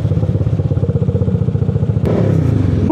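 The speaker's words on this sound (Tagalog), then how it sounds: "Naka-backfire pala." Yamaha Aerox 232cc scooter idles and revs in a residential subdivision, its exhaust chugging loud and close in a rapid pulsing rhythm, then a sharp crack of backfire breaks into a rougher, steadier roar.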